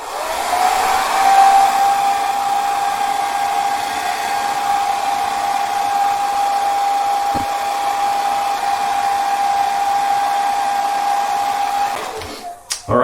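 A hair dryer blows loudly and steadily for a long stretch while a beard is combed straight, with a constant whine that cuts off near the end.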